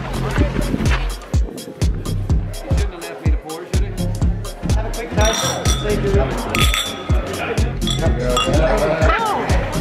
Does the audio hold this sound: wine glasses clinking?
yes